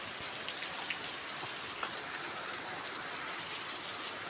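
Heavy rain pours down steadily in a dense, even hiss of drops hitting surfaces, continuous and fairly close with no voices.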